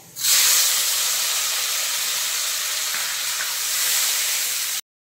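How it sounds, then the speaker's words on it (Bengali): Loud, steady hiss of chopped onions hitting hot oil over five-spice seeds, a continuous sizzle that holds evenly for several seconds before cutting off abruptly. "দিয়ে দিলাম 5 ফোড়নের উপরে কুচনো পেঁয়াজ।"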